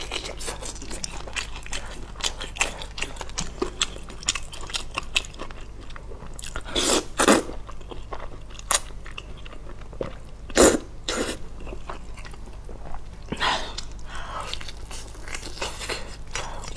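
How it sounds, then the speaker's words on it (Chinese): Old-style malatang coated in sesame paste being bitten and chewed close to the microphone, with soft wet chewing and scattered crunches, then a few louder sharp bites near the middle. "这是刚才我咬一口啊。"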